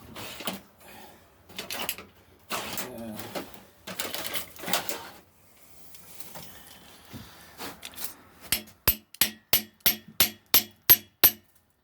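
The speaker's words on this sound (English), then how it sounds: "Using that ratchet for a hammer." Metal ratchet wrench used as a hammer on an engine part, a series of sharp metallic knocks: scattered blows early, then about ten evenly spaced, loud strikes in quick succession at the end.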